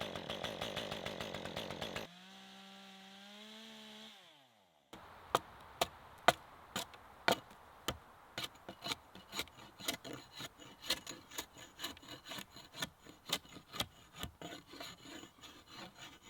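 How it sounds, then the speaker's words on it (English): A brief buzzing chainsaw whine, then a rising motor hum, followed by a long run of sharp, rhythmic hatchet strikes debarking wood, close and loud. "I use my hatchet to debark the wood, and then I use my chainsaw"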